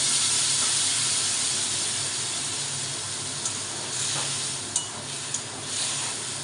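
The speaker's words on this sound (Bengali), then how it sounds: "এখন আমি এর উপরে একটু জল দেবো" Water poured into a hot pan of rui fish curry with potol and potatoes, setting off a loud, steady sizzling hiss that continues close up without a break, a few small pops near the end, no voices.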